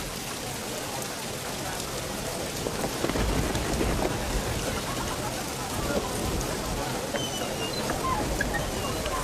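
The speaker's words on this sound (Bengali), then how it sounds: "এর জন্যই তো রহমতের বৃষ্টি হচ্ছে।" Steady rain pours down across the whole stretch, dense and close, with heavier drops drumming on surfaces and a faint low rumble beneath.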